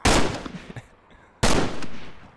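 Two loud, sharp gunshots in the DayZ video game ring out about a second and a half apart, each with a lingering rumbling tail, and nobody talks over them.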